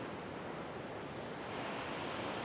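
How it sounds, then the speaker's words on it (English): Heavy stormwater runoff on the eastern end of Long Island, a steady, dense rush of running water, loud and continuous with no talk. "This is a perfect example of stormwater runoff. It's a lot of water running."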